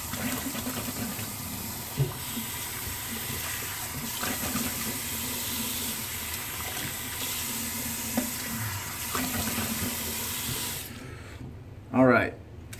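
Tap water runs steadily while someone rinses off before a head shave, a continuous broad wash of flowing water that cuts off near the end, leaving a short splash or clatter after it stops.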